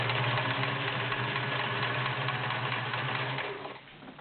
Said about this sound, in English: Classic smooth Kenmore sound.